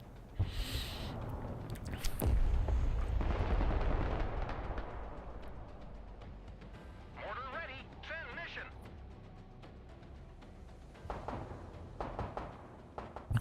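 Mortar and artillery fire in the military strategy game Broken Arrow: a deep rumbling blast early on, then scattered distant thuds and crackles, with voices talking over parts of it.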